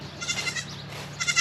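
A baby goat on a farm bleats in a few short, wavering cries, fairly close and loud, with no talking.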